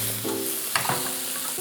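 Steady loud sizzling of japchae ingredients frying in a little oil in a pan, with brief stirring scrapes mixed in, close up and without speech.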